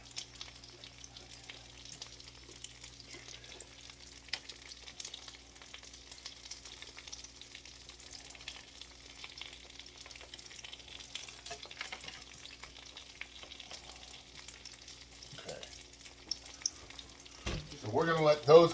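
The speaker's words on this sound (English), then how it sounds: "our fish is cooking" Peanut-coated tilapia pieces frying in a pan, a continuous low crackling sizzle that holds steady, with a clatter of utensil handling near the end.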